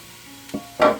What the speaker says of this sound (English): the olive oil is nice and hot in there. So what we're gonna do, you can hear it sizzle.